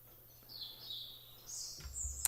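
Birds singing outdoors in the morning, with bright high chirps and tweets coming in bursts at moderate distance over a quiet outdoor background and a low steady hum.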